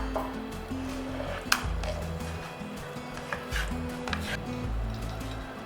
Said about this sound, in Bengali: খেয়াল রাখবেন এটা একটু কম জল দিয়ে টাইট টাইট করে বেটে নিতে হবে।